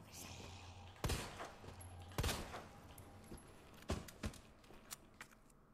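Pistol shots in the Resident Evil 2 Remake video game, several sharp separate bangs spaced irregularly over a low game backdrop, with quieter thuds and clicks between them.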